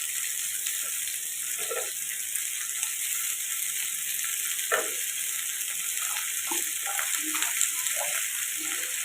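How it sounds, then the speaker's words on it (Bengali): Potato and eggplant pieces fry in a pan with a steady, faint sizzle, broken by light stirring scrapes and small bumps. "আলু বেগুনগুলো দিয়ে একটু নুন হলুদ দিয়ে আবারও এটাকে ভাজতে দেবো।"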